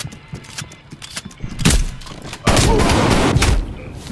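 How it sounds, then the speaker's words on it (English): Shotgun blasts from a gun-game mode in a video game, a couple of loud booming shots with dense noisy tails dominating the clip over faint background activity. "Get me off this horrible shotgun for the love of God"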